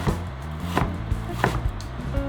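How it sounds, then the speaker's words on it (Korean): A knife thinly slices onion and bacon on a wooden cutting board, a series of irregular close wooden taps and thuds, quiet and without talk. "양파와 베이컨도 얇게 슬라이스 해주세요"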